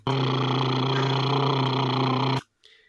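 A looping car engine sample plays as a loud, steady droning hum with strong low harmonics for over two seconds, then cuts off abruptly, followed by a short faint tail.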